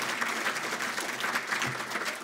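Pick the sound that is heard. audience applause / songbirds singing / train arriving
audience applause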